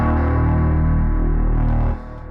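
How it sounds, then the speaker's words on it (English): A sustained synth tone played in UVI Falcon through a plate reverb, a steady, loud, harmonically rich pad with a slight distorted edge that holds, then drops in level near the end as the reverb tail continues. "And we could throw on a reverb of some kind. Let's just grab like a plate."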